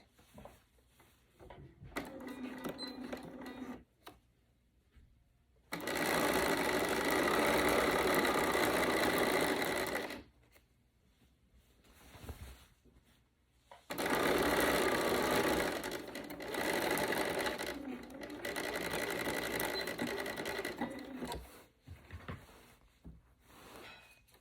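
Sewing machine stitching straight across a coat hem: two long bursts of steady mechanical whirring, close and clear, separated by quiet pauses with faint handling noises and a shorter run at the start.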